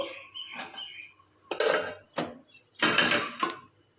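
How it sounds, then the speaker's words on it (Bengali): Rice grains being stirred with a ladle through hot salt in a pan to make puffed rice, producing four gritty, rustling scraping bursts separated by short pauses, close up. "একটা হাতা দিয়ে তুলে দিয়ে দেব আর এইভাবে নাড়তে থাকবো"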